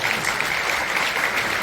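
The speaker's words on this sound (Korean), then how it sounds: "박수 한번 해주시면" An audience claps at a National Assembly prayer breakfast worship service in a large conference hall. Steady, sustained applause from a sizable crowd fills the room, even and unbroken throughout.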